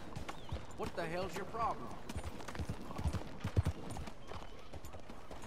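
Horse hooves clip-clop in the Red Dead Redemption 2 video game, a steady rhythmic beat of hoofsteps with mechanical clatter, heard under a voice speaking during the first half.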